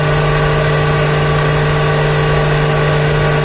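A 5hp/4kW spindle motor runs at 9,000 RPM in a steady, even whine with a constant hum underneath, holding unchanged and close for a few seconds with no voices.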